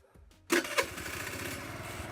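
A four-stroke scooter engine is kick-started: a few quiet mechanical clicks of the kickstarter, then the engine catches with a sharp burst and settles into a fast, steady idle close by.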